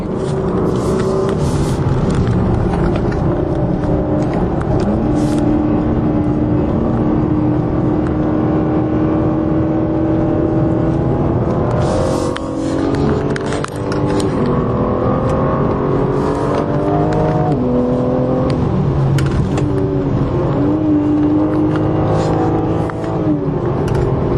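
A 2021 BMW M3 driven in sport mode on a mountain road, its engine note rising and falling steadily as it pulls through gears, loud and close with continuous road noise throughout.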